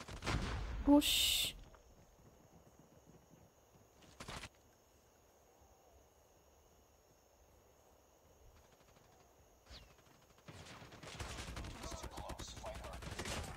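Scattered gunshots during a night team deathmatch in Call of Duty Mobile: a few isolated sharp cracks over a quiet background, then a denser stretch of continuous firing toward the end, with a voice speaking briefly.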